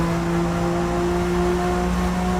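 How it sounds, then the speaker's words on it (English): A race car engine in the Forza racing game holds a steady, loud whining drone with strong sustained tones, continuous and alone without any talk. "Do love that engine noise though."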